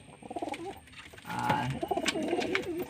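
Giribaz pigeons coo in soft, repeated rolling calls, close by, in a steady run of overlapping coos with no talk.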